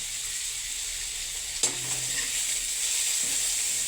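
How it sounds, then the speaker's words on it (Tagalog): Sponge gourd (patola) being sautéed in a pan, a steady close sizzle of frying with a brief clink of stirring partway through, and no talk. "ginisang patula lang to"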